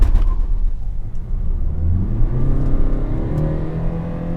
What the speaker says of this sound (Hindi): सिर्फ अपन इसको थ्रॉटल करेंगे, आप खुद एक्सपीरियंस करिए इस इंजन को। सो रेविंग द इंजन